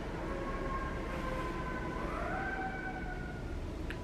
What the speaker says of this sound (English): Sirens are coming.